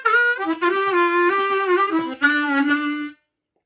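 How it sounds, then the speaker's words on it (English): Blues harmonica played solo with bent notes, pitches sliding and wavering through two sustained, reedy phrases separated by a short break, loud and close with no talking. "that is the sound of the blues, right? Is bending notes."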